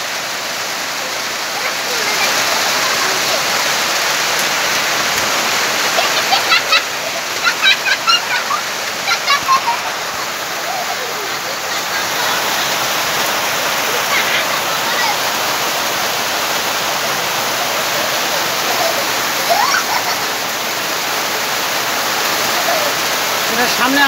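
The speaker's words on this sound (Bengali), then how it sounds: "প্রচণ্ড বৃষ্টি" Heavy rain pours steadily in a dense, loud roar of broadband hiss that holds for the whole stretch, with a few brief louder bursts of splashing partway through.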